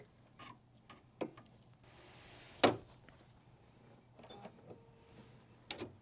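An embroidery machine stitches a quilt block held in the hoop, a faint, quiet mechanical ticking with a few sharper clicks and one louder rattle midway.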